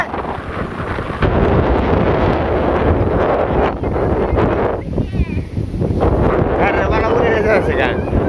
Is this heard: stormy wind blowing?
yes